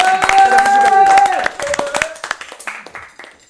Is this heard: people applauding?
yes